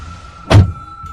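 A car door opens with a single loud, close thump, set against a steady low hum with no other sound around it.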